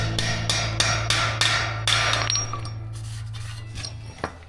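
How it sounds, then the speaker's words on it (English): About six sharp, ringing hammer blows drive a sleeve anchor into a masonry wall in quick succession, followed by lighter taps and a final knock over a steady low hum, with no voices. "Get that sleeve down, and then you can hammer it home."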